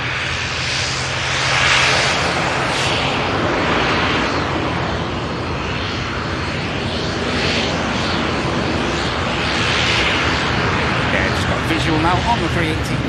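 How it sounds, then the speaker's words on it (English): Ryanair airliner arriving from Alicante touching down at Manchester Airport, a continuous loud jet roar with swelling rushes of engine noise, close and steady, while a voice talks over it. "This aircraft in from Alicante. Touching down without issue."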